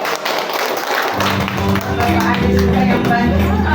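A roomful of people at a junior high school gathering claps together, a dense continuous patter of many hands with voices mixed in, steady and fairly loud from start to finish.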